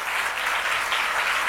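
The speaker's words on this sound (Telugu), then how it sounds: "చప్పట్లు కొట్టి దేవుని స్తుతించండి." A church congregation claps together in praise during a Telugu sermon, a dense, steady wash of many hands that is fairly loud and continuous throughout, with no talking over it.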